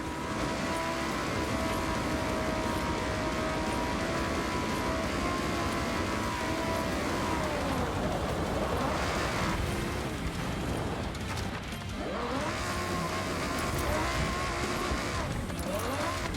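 A Lamborghini Huracan Sterrato on all-terrain tires races down a ski run in a driving game, its engine a constant loud roar shifting pitch through gear changes, with bursts of gritty tire noise and skidding.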